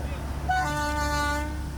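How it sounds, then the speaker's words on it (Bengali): A train horn sounds on a railway line where a cow stands on the track, giving a loud sustained blast of steady tone under a low rumble of the train. "সেখানে হরেন বাজানো হচ্ছে, কিন্তু গাভীটা ওখান থেকে নড়তেছে না"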